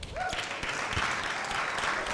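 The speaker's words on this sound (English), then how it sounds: "So give yourselves a round of applause." Audience applause at a community gathering on homelessness in Ypsilanti, Michigan, a steady wash of clapping with a few louder individual claps and a brief voice rising near the start.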